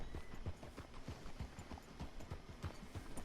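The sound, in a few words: horse hooves clip-clopping in a western video game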